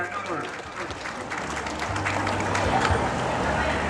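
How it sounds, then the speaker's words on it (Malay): Applause from a crowd at a community family program in Malaysia after a child singer, brief clapping mixed with crowd babble and a low hum. "Tepukan adik Nurul"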